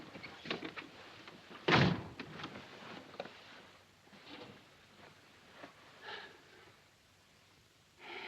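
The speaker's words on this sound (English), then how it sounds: "Shut the door." A door being shut in a wartime setting, a single loud thud standing out once amid quiet room sounds and faint rustling.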